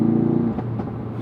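A Ford Focus RS engine holds a brief steady hum, then eases to a lower, quieter drone, heard close up.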